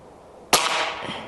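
A single sharp crack from an Umarex Iconix .22 caliber PCP air rifle, close and loud, with a quick bright decay and a faint pellet impact a half second later in an otherwise quiet backyard.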